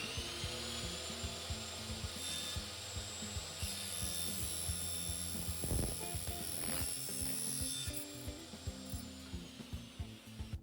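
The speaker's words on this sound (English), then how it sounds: "when you're cutting aluminium with a drop saw, you want to go a little bit slower than you go with timber" A drop saw cuts slowly through an aluminium roller blind rail, a steady, loud whine with grinding and scraping texture and a brief harsher burst midway, heard alone without talk.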